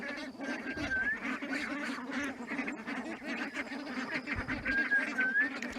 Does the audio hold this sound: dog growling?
no